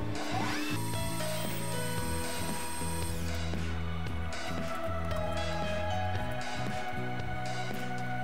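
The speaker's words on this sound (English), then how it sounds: "Machine the end off, make it good and square." Metal lathe taking a small facing cut on the end of a piston pin for a Chevy 454 big block build, a steady machine hum with tonal whine and scraping cutting noise throughout, no talk.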